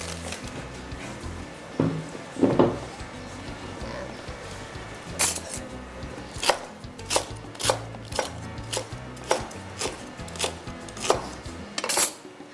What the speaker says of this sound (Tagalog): And then, saka natin hiwain ang bagnet.